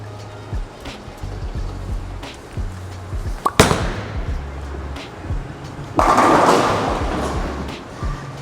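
A bowling ball, a pearl Storm DNA Coil or Roto Grip Attention Star, is rolled down the lane with a sharp release thud, a long rumbling roll and a loud crash into the pins near the end, heard alone.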